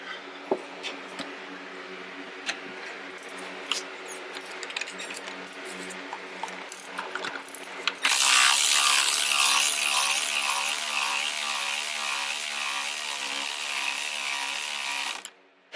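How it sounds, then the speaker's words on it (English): An electric ratchet removes the front shock nut on a 2002 Dodge Dakota, with light tool clinks first, then a loud steady whirring buzz for several seconds before cutting off. "I'm gonna go with my electric ratchet."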